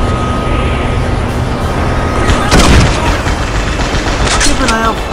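Grenade launcher fired in Halo SPV3, a remake mod of Halo 1, set against loud game noise, with one heavy booming blast near the middle and sharper bursts after it, all inside a dense wash of battle sound.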